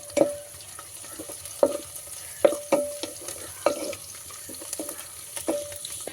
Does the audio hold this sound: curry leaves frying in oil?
yes